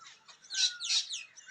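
A bhekudiya bird calls in a village garden, a series of bright chirping notes with two louder bursts in the middle, fairly close and clear against an otherwise quiet background.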